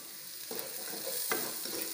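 Mint, coriander leaves and six small green chillies sautéing in a pan for Ambur chicken biryani, a quiet steady sizzle with two distinct scraping stirs.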